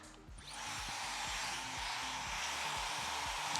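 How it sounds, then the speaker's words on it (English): A handheld hair dryer blows steadily and loudly during a salon blow-dry of a client's hair, with a continuous broadband whoosh and a low motor hum that starts just after the opening and holds to the end. "We dip downwards and dry the hair, so that it keeps the volume happening"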